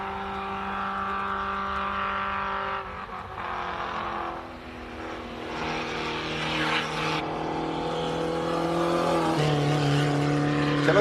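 Classic race cars at the SIMOLA hillclimb roar past with a steady, loud engine drone whose pitch climbs and shifts as they rev and accelerate, with one machine following another.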